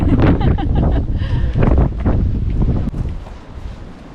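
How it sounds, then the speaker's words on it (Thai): Strong wind blusters across the microphone on the coast at Bamburgh Castle, giving loud gusting rumbles that rise and fall. A voice speaks briefly in the middle. "ลมแรง"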